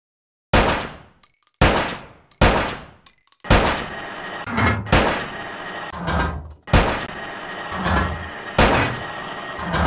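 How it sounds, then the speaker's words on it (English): Repeated gunshots from the Bad Boys 2: Miami Takedown video game, a string of sharp loud bangs with metallic pings and clangs as targets are hit, firing in uneven bursts with short pauses between, no talking. "Let's see if you can hit these targets and leave the paintwork intact. Line them up and press the shoot button."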